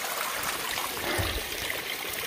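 Near, steady rushing and trickling of an ice cold mountain stream on a snowy, cold stretch of the Appalachian Trail, a continuous babbling wash with a brief low gurgle midway, no voices present.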